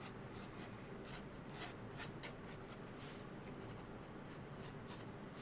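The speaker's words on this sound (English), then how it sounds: "I'm sketching really lightly because I don't want to erase too heavily" Graphite pencil lightly sketching leaves on paper, ahead of watercolor painting: a steady, soft, continuous scratching and rubbing of the point on the paper with small rhythmic strokes, close up, with no voices.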